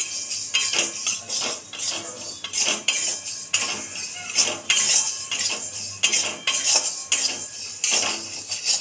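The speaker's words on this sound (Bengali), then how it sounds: "এখানে মা ডালটা শুকনো কড়াইয়ে ভেজে নিচ্ছে," Lentils dry-roast in an empty kadai, with a metal spatula scraping and clinking against the pan in repeated, rhythmic strokes, loud and close, about one stir every second.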